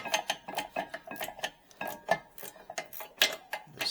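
Socket wrench ratcheting on the rear brake of a 2018-2022 Chevy Equinox with an electronic emergency brake, a steady run of quick, close metallic clicks in short bursts, with no talk.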